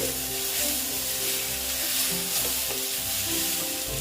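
Small tengra fish curry with potato and eggplant being stirred in a hot pan, a steady sizzle with scraping spoon movements throughout, close and continuous.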